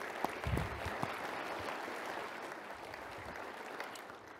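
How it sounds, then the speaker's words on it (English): A conference audience applauds Lucy Norton at a renewable fuels industry address, a broad patter of many hands starting strong and tapering slightly toward the end. "So we really should give Lucy a round of applause."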